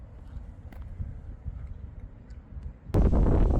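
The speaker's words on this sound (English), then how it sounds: "Oh, a lot of wind again." Gusty wind buffets a microphone outdoors at an air rifle range, a steady low rumble that surges suddenly louder and stronger near the end.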